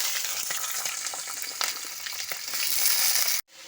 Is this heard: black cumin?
yes